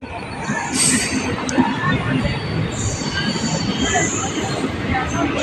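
The Chennai Egmore to Tiruchendur special fare summer express, train 06155, runs along the rails with a continuous loud rumble and rattle and a few high wheel squeals, while faint passenger chatter sits underneath.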